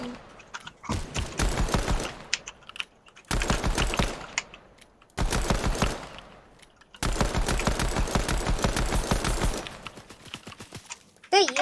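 Fortnite gunfire in long rapid automatic bursts, three or four loud sustained volleys separated by brief pauses, close and dominant, with players talking faintly around them.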